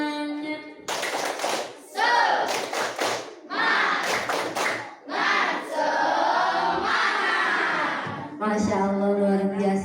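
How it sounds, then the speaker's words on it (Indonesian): A classroom of pupils performs the tepuk semangat spirit clap, sharp unison claps in a driving rhythm mixed with loud group chanting and shouts, close and energetic, with pauses between phrases. "Kita mau tepuk semangat dulu boleh?"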